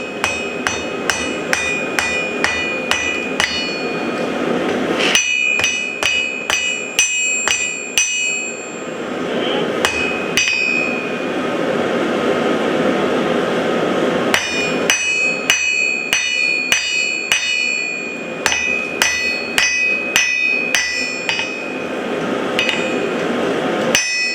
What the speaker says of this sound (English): I will throw back in the forge and try to tap it off with a hammer